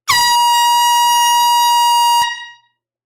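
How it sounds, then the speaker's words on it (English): A single loud, steady air horn blast at a live record sale, bright and tonal, is held for a little over two seconds and then cuts off cleanly, with a brief ringing tail and no talking. "Here's your air horn."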